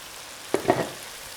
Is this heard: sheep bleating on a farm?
no